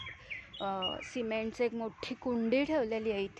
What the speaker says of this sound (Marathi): तिकडे पक्षी ओरडतात छान